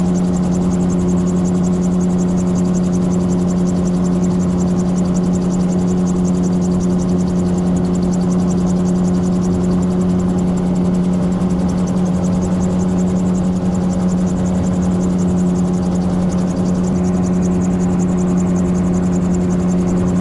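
Gyrocopter engine in flight at sunset, a loud, constant droning hum with a strong steady tone that persists unbroken throughout.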